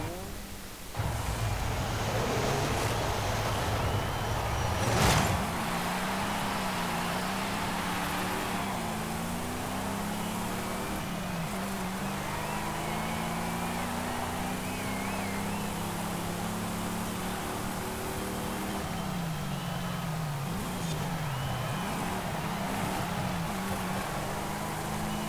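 A 1958 Plymouth Fury's engine in the racing game Forza Horizon 5 drones through repeated gear-shift sweeps, its pitch rising and falling as the car accelerates, steady and mid-loud with no talking.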